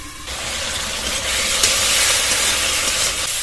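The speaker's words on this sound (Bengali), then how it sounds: "ভেন্ডিগুলোকে ভেজে নেবো। লবণ, হলুদ গুঁড়ো, অল্প একটু জল দিয়ে চাপা দিয়ে সেদ্ধ করে নেব।" Okra sizzles in hot oil in a pan, a steady, close frying hiss that grows slightly louder after a brief quieter opening and holds without talk.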